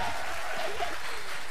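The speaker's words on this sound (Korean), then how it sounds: "혹시 박수 한번 몰아주세요" A short burst of audience applause: many hands clapping steadily.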